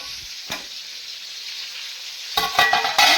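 Tomato pickle frying in hot oil gives a steady sizzle, with a few louder scraping bursts near the end as a spoon stirs it. No one speaks.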